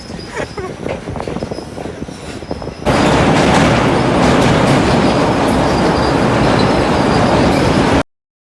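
A passenger train runs toward Colombo Fort station in Sri Lanka, first a moderate rattle of the carriage, then a sudden loud, sustained roar of wheels on rails and rushing air close by.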